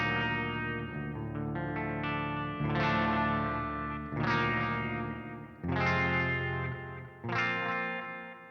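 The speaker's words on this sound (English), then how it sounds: "it's a really nice delay and reverb" A harmonically rich electric guitar through a metal amp simulator plays repeated chords, each one smeared into a lingering delay and reverb tail before the next strike.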